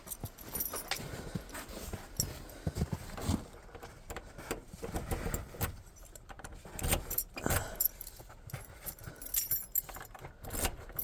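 A bunch of keys jingles and rattles continuously at a house door while it is being unlocked, at an old farm barn under renovation in the wintry Haut-Jura.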